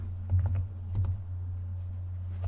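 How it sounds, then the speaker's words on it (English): Close keystrokes on a computer keyboard come in a short burst of clicks as an order number is typed into a purchase ordering system, over a low steady electrical hum. "I'm going to type in the number,"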